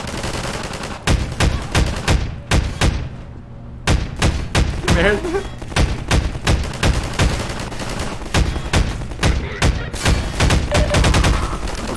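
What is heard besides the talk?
gunfire in the video game Half-Life 2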